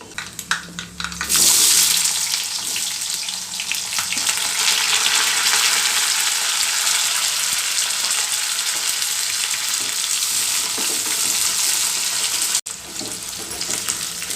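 Onion, curry leaves, garlic and fenugreek seeds fry loudly in hot oil for a fenugreek gojju, a dense continuous close sizzle after an initial burst, steady throughout with a brief cut near the end and no speech.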